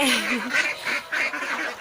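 Young ducklings raised on a farm quack and peep in quick, high, close bursts, several calls overlapping in a busy chorus.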